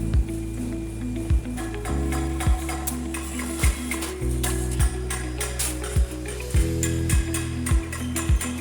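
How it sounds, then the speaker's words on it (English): A supermarket shelving panel roll forming mill on a cassette-duplex line runs on a dual-sided chain and gear drive, making a steady mechanical drone. Regular sharp metallic clunks, like a ratchet or indexing gear, land about once per second. "Driven by a robust dual-sided chain and gear transmission system, the line ensures maximum torque and perfect profile synchronization at all times."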